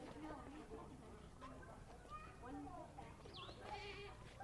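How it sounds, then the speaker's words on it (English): A baby African pygmy goat bleats faintly at an animal park, with a few short high cries under nearby talk and crowd noise. "So you got a little baby goat."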